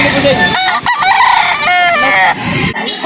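Rooster crowing up close, a loud harmonic call repeated in a couple of rising and falling bursts, at a chicken market in Lipa, Batangas.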